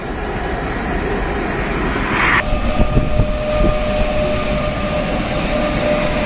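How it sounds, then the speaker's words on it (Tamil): An electric locomotive rushes past at 110 km/h with a loud, steady rumble and rattle, a faint high whine ringing above it. "110 கிலோமீட்டர் வேகத்தில் இயக்கப்பட்ட மின்சார ரயில் இன்ஜின்."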